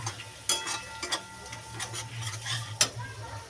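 A spoon scrapes and stirs red chilli powder into soybean ghugni in a pan, with irregular scraping strokes and sharp clinks over a faint low sizzle, close and fairly quiet.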